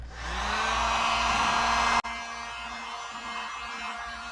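A heat gun blows loudly and steadily while heating a Honda FL250 two-stroke engine part before bearings are fitted, then clicks off partway through, leaving a lower fading whir.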